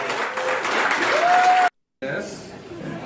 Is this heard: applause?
yes